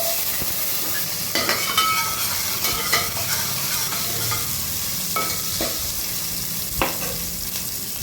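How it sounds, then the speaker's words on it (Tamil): Small whole onions sizzling and frying in hot tempering oil for South Indian sambar, a steady close crackle with occasional stirring clinks and scrapes, no talking. "வெங்காயம், சின்ன வெங்காயம் எடுத்திருக்கேன் தாளிக்கிறதுக்கு."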